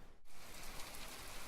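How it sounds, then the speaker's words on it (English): Steady rain in the naval building game From The Depths, a soft, constant hiss of drops on surfaces that stays fairly faint and even throughout, with no voices. "Because who doesn't love a little bit of rain?"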